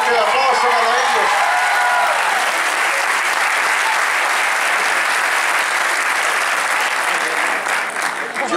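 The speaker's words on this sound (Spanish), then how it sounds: "Fuerte el aplauso para ellos." A crowd at a radio station's 85th anniversary show bursts into loud, sustained applause. The dense clapping fills the space continuously from start to finish, with some voices mixed in near the beginning.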